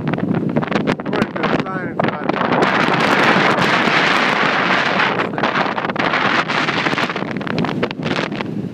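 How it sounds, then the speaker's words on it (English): Strong wind gusting at the top of Ubehebe Crater, about 500 feet up, buffeting the microphone in a loud, continuous roar with rumbling low end, while a voice speaks briefly. "it's a little windy"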